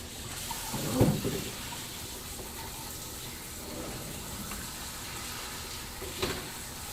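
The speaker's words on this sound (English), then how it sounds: "You want to rinse off the salt, rinse out the container." Tap water runs steadily into a sink while a pickle container is rinsed out, with soft splashing and a couple of brief clunks as the container is handled.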